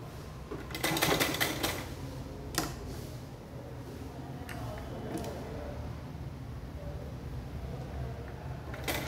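A sewing machine stitches a shirt cuff in a quick burst of rapid mechanical clatter near the start, then a lighter hum and scattered clicks follow, close and moderately loud.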